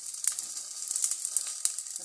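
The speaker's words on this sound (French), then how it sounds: "160 grammes de pâtes dans la casserole et laisser cuire et laisser mijoter 2 minutes en remuant de temps en temps." Dry pasta sizzling in a saucepan as it is stirred while toasting for a pasta risotto, a soft, close, crackling hiss with a few sharp scrapes and clicks.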